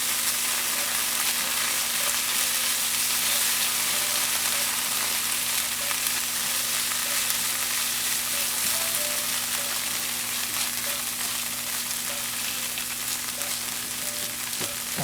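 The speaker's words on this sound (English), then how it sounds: "we're taking that fat out of that coconut cream and using it to kind of fry our curry here" A steady, close sizzle of curry paste frying in fat rendered from coconut cream, continuous and even throughout with no voices.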